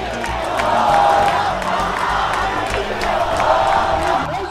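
A large crowd of protesters in Jordan chanting anti-Israel slogans, loud rhythmic massed voices swelling and falling in repeated waves, with shouts rising over the din.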